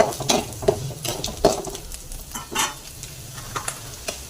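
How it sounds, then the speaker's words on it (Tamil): Cumin seeds and black pepper sauté in a pan with a light, crackling sizzle, punctuated by several sharp stirring scrapes and taps of a spoon against the pan. "சீரகமும் குறுமிளகும் சேர்த்திக்கிறோம் சேர்த்து ஒரு வதக்கிக்கணும்"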